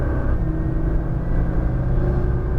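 A Nissan GT-R accelerating on a Las Vegas race track, its engine a steady, loud in-car drone and rumble that holds continuously throughout, with no talk.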